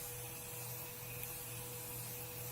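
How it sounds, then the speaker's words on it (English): A spray bottle of facial mist hisses in one steady, continuous burst, close and fairly loud, with no voices. "I'm just going to spray it so you guys can see what the mist looks like"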